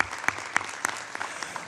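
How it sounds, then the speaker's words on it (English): A conference audience in Morocco claps for an honoured guest, a short burst of crisp, sharp hand claps from a moderate-sized crowd, with no voices over it. "So please give him a round of applause."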